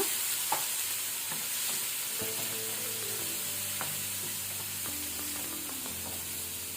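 Steady sizzling of spice tempering frying in a hot pan, with water sprinkled in and occasional stirring scrapes and clinks, continuous and close throughout.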